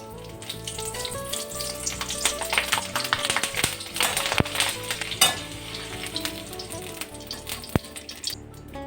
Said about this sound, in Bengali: আমি এই লঙ্কা কটা ভেজে নেব এখন।